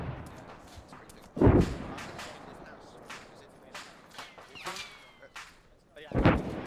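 Artillery barrage in Arma 3 during a campaign on an oil field: a heavy distant thump near the start and another at the end, with lighter cracks and rumble between, as people talk over the game.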